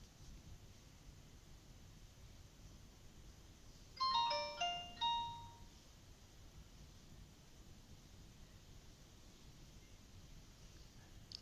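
A short tinkling chime of bright synthetic tones plays once over faint steady hiss, then fades into quiet.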